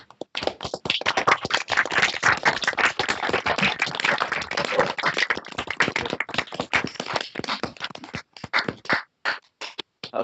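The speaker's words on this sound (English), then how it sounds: "A big round of applause, maybe?" An audience at a conference talk claps enthusiastically for the speaker. The dense, close clapping thins to a few scattered claps at the end.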